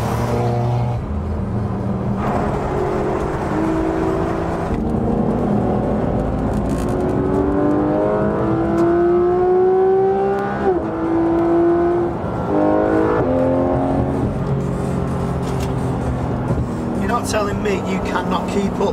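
A Seat Leon Cupra K1 engine revs and pulls hard under acceleration, its pitch climbing steadily through the gears, loud and close from inside the car, with people talking over it.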